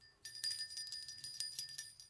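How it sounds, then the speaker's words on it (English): A tiny bell hanging from the bottom of a handmade red and white crochet ornament jingles in quick, light tinkles, close and fairly soft, repeating irregularly as the ornament is moved. "there's even a little bell on the bottom"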